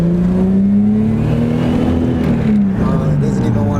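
A car engine revs hard and close, its drone rising and falling with a whirring turbo spool over it, loud and continuous throughout.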